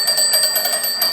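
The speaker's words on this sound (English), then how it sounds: "Here's probably typical what you'd hear on a lot of the other phones right here would be this type of noise right here." Ringer of an old telephone on display in a telephone museum: a brief, loud, rapid ringing trill with steady pulsing, heard alone and close.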